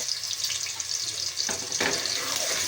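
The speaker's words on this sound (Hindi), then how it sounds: "इसको हम फ्राई करते हैं, प्याज को हल्का सा कलर आने देते हैं" Chopped onion frying in hot cooking oil in a pot, with a steady close sizzle and a few louder crackling bursts as the pieces hit the oil; no voices.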